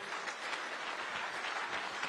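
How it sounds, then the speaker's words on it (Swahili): A crowd at a political rally in Limuru, Kenya, applauds steadily, a dense wash of many hands clapping at an even level throughout. "tuwapigie makofi"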